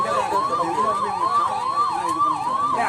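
A wailing ambulance siren rises and falls in a steady repeating cycle, loud and continuous, like an emergency vehicle passing close by, near the Sankarankovil railway gate.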